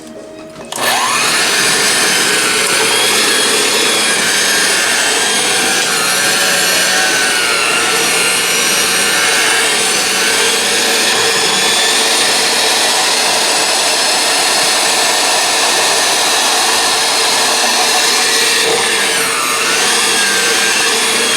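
A loud electric mixer whirs continuously while mixing potatoes with milk in a kitchen. The motor drone stays steady and close for the whole stretch, with no talking over it.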